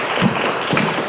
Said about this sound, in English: just help me give all of our panelists a big round of applause